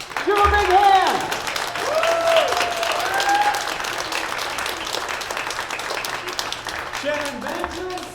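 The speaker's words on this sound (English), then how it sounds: "Give them a big hand." A school invention contest audience applauds as the judges are introduced. A dense crowd clap starts loud and close, then gradually thins and fades, with people talking over it.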